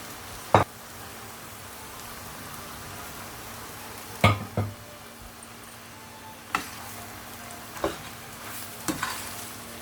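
Parotta and egg being stirred and fried in a pan for kothu parotta, a quiet steady sizzle broken by several sharp metallic clanks of the utensil against the pan, spaced irregularly.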